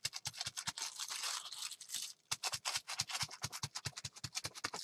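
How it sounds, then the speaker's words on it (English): A plastic piece being pushed and scraped through wet paint on a gel print stencil gives a run of rapid, close, crackly scratching strokes in a steady rhythm, with a brief pause partway, no voices. "I've got a piece of plastic here that I'm going to push into the paint to help remove some of it right here on this edge"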